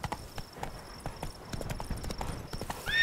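A running horse in The Witcher 3 drums out brisk, regular hoofbeats up close, and a short whinny-like cry rises at the very end.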